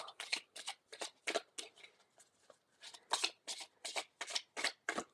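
Cosmic energy cards being shuffled by hand, close and crisp, a rapid series of riffling bursts in an uneven rhythm with short pauses between them, faint in level.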